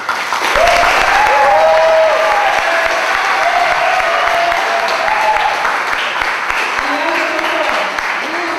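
Large audience applause at a Brazilian illustration and animation event, loud sustained clapping with crowd noise that gradually thins, a few voices rising over it near the end.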